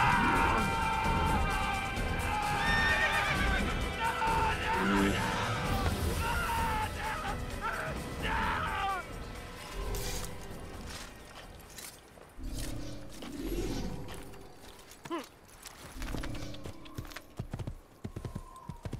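Horse hooves clip-clopping with neighs in an Assassin's Creed horseback combat scene, busy and loud at first among clashing game effects and music, thinning out toward the end.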